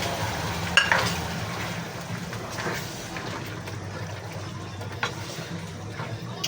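Quiet stirring of fried tofu and shrimp with chicken in a pan, soft scraping and light clinks over a low steady background, with one sharper knock near the start.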